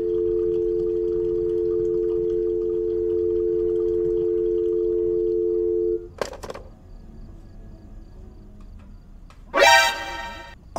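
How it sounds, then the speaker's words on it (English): In the Fears to Fathom video game, a telephone dial tone hums steadily for about six seconds and then cuts off, followed by brief clicks and a later loud rustling burst. "Phone's not working. I got a dial tone."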